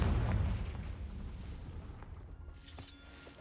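A Confringo explosive spell blast in the video game Hogwarts Legacy, a deep booming impact with crackling debris that decays quickly, followed by a sharp short burst.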